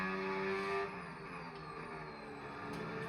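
An F1 race car speeds flat out down a straight at the Spanish Grand Prix circuit in a video game, its engine whining high and steady, with the pitch rising during the first second before settling.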